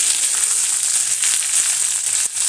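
Vegetables fry in a pan with a loud, continuous crackling sizzle, a dense bright hiss that holds steady with a brief dip near the end, no voices.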